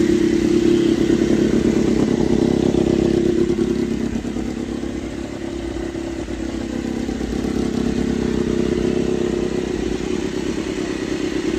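Honda RC213V-S motorcycle engine running on a test ride, a loud continuous close drone that steadies, dips slightly in the middle and swells again, with no voices over it.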